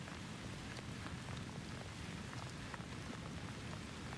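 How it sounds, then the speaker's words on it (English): Steady rain drums on the tin roof of a forest cabin, an even, dense patter of drops with a low rumbling undertone, continuous and unbroken, with no voices. "just a steady, patient rhythm on the tin roof of the cabin"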